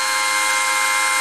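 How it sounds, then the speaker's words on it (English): A power drill bores into wood while a covered bridge is being built, giving a steady, loud, close whine with no pauses and no voices. "I raise and lower it a little bit so I don't put pressure on that drill bit till I get far enough into the wood."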